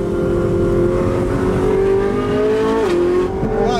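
A Ferrari's engine revs loud and steady close by, its pitch climbing and briefly dipping twice near the end.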